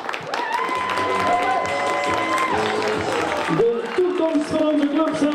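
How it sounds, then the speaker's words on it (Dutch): A football club crowd applauds, with dense steady clapping running throughout while amplified music or tones play over it. "Geef ze een applaus!"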